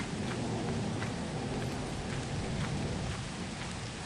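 A heavy thunderstorm plays in the video game Lethal Company, with dense, steady rain hiss and low rumbling thunder filling the whole stretch at constant loudness. No one talks over it.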